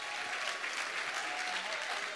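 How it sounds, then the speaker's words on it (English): Church congregation applauds in a continuous, dense wash of clapping at moderate volume, steady throughout a short burst with no talking over it. "Give them all give a clap."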